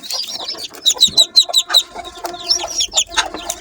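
Newly hatched chicken chicks peep close by in rapid, high-pitched chirps, many overlapping in quick bursts.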